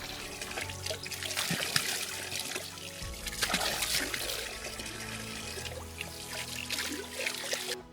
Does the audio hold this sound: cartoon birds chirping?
no